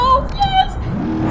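A Baja truck engine revs and strains in BeamNG while lining up for a ramp jump, the motor droning under excited voices talking over it.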